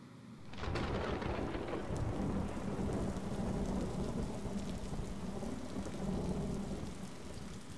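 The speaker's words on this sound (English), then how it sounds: "And this rain is something else." Heavy rain and rolling thunder from the video game Road To Nowhere begin abruptly after a brief quiet moment, then hold as a loud, steady downpour with low rumbles throughout, and no voices.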